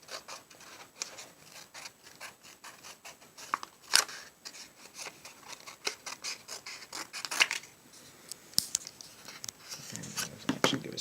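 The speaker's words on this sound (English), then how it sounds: "We'll cut it along the fold." Scissors snip through a sheet of paper folded lengthways, cutting along the fold in a short series of quiet, irregular cuts and rustles, with faint background noise.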